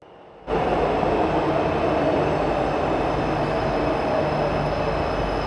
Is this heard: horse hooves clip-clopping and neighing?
no